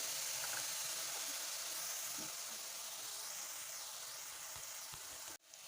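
Dry spices, among them coriander powder, fry in a pan for a green peas bhaji, giving a soft, steady sizzle and hiss that holds close and continuous before cutting off abruptly near the end.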